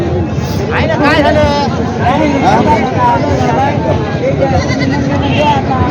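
Goats bleat repeatedly over a crowded livestock market at Khandoba in Parbhani, their wavering cries rising above a dense babble of people talking nearby.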